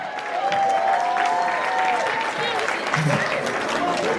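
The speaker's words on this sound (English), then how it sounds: "Come on, you all keep clapping for them." Guests at a wedding party clap together in sustained, dense applause that fills the whole few seconds, with a voice and some tonal sound running over it.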